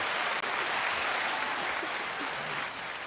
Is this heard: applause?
yes